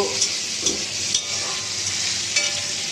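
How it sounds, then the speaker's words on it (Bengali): Hog plums (amra) sizzle and fry in a pan, a continuous close hiss with occasional stirring scrapes and clinks over about three seconds. "আমড়াগুলোকে তো ভালো করে কষে দেবো।"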